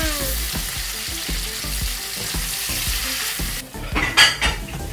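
Shrimp frying with mala sauce in a pan, sizzling steadily while being stirred in repeated scrapes, ending with a brief clatter of utensils against the pan.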